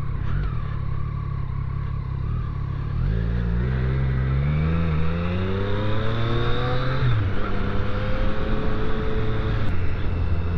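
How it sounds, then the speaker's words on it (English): Road traffic heard from a Triumph Street Triple 765 R motorcycle: a steady engine drone under wind rush, then a nearby vehicle revs and accelerates through its gears in rising, falling sweeps before the sound settles back to a constant hum. "Ooh, look at this traffic, my favourite."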